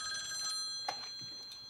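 A telephone bell rings in a quiet room, its bright tone held steadily through the short moment with one sharp click partway through.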